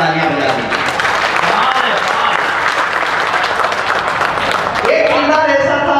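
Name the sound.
audience applauding at a poetry recital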